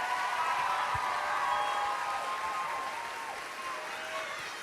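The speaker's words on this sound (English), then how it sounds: "how about one more round of applause for the 2018 Royal Court" A large audience applauds the 2018 Rose Parade Royal Court at the Rose Queen coronation, a dense, sustained wash of clapping from a big crowd that holds steady throughout.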